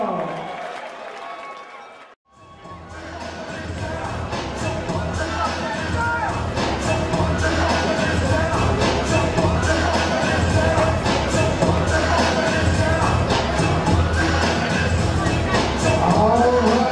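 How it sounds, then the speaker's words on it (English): Crowd at an RITC 58 fight event applauding and cheering for a debuting heavyweight fighter, a dense, loud and sustained roar of clapping and shouts that swells after a brief pause and continues to the end. "give this young man a round of applause, Daniel Gutzold."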